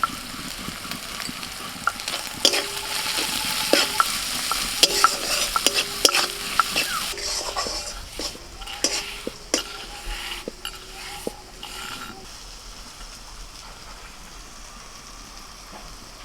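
Onion, crushed ginger, crushed green chili and crushed garlic frying while being stirred: a steady sizzle under repeated metallic scrapes and taps of a spoon against the pan, with the frying fading to a softer hiss later on.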